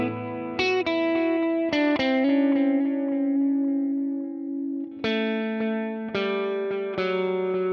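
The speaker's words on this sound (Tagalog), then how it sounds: "Try natin tape echo." Guitar played through the tape echo effect of a Zoom G6 multi-effects unit: loud sustained plucked chords and notes with repeating echoes trailing off between strikes, no voices.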